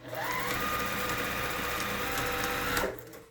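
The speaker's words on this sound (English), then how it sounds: "Then I'm going to back stitch, lock in my stitch, leave an opening here, come down to the end and finish it off." Sewing machine back-stitching a fabric face mask: a steady, close mechanical whir of rapid needle strokes running for about three seconds, then stopping abruptly.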